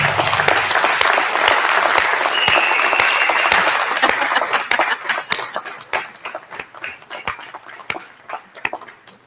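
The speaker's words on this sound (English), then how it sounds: "Graduates, if you would just stand, turn around, and give your family and friends a round of applause." Graduates at a June 2016 convocation ceremony give a round of applause, starting as a loud, dense wash of clapping with a few cheers, then thinning into scattered individual claps.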